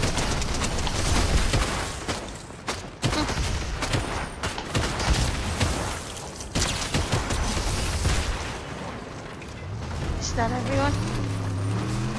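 Rapid, dense bursts of video-game gunfire and explosions crackle almost continuously, mixed with voices talking over the action before the shooting gives way to quieter tones near the end.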